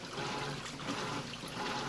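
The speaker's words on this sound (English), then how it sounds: "Doing an excellent job agitating." A Kenmore washing machine agitates clothes in plenty of water, giving a continuous sloshing, splashing churn that stays close and steady throughout, with no talking.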